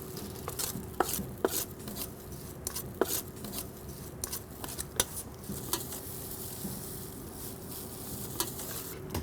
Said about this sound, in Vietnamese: Bây giờ tôi đi tẩm ướp nha, tôi trộn tất cả các gia vị.